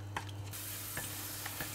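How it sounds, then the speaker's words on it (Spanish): Thin slices of garlic sizzle gently in oil in a frying pan over moderate heat, a steady soft crackle broken by a few short scraping stirs, with no voices. "voy a saltear dos dientes de ajo que tengo cortados en rodajas finitas"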